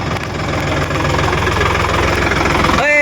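A farm tractor engine runs close by with a loud, steady low chugging throb that continues throughout, and a brief higher tonal whine appears near the end.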